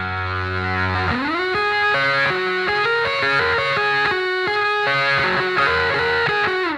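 An electric guitar played through a cranked vintage Fender amp rings out with gritty distortion, a run of sustained notes and changing chords, loud and steady with no talking.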